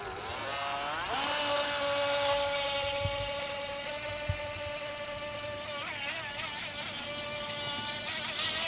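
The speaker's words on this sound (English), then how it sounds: "that's your DEERC speedboat" A DEERC H120 RC speedboat motor runs with a steady high-pitched electric whine, rising sharply near the start and holding fairly constant with slight pitch wobbles, moderately close and alone.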